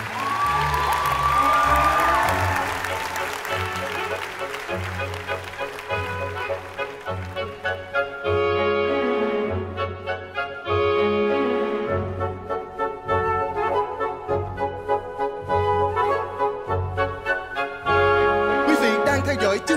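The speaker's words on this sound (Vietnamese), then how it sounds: "Xin dành tràng pháo tay nồng nhiệt để chào đón." Studio audience applause and cheering on the Vietnamese dance show Bước Nhảy Ngàn Cân 2016, a continuous clapping wash mixed under loud, pounding stage music.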